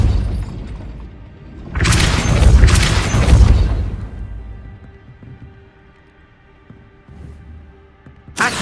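A Depulso force spell cast in Hogwarts Legacy lands as a loud, close, booming crash with a shattering burst lasting about two seconds. It then fades into a low rumbling tail, and a sharp hit follows at the end.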